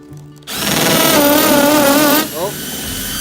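A Tacklife hammer drill in hammer mode bores into a piece of redwood, a loud, close whine with rapid percussive chatter lasting almost two seconds before spinning down, with someone talking over it.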